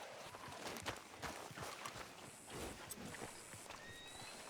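Horse hooves clopping in Red Dead Redemption 2, a steady dense patter of footfalls under ambient game noise with a brief whinny-like tone near the end.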